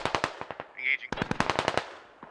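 Bursts of automatic gunfire in the tactical shooter game Squad, a rapid string of sharp reports broken by a short pause, then another longer burst trailing off, fairly close and loud.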